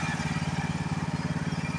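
A tractor hauling a trailer loaded with pruned branches through an orchard, its engine a low, steady, pulsing chug that stays faint and even from start to finish.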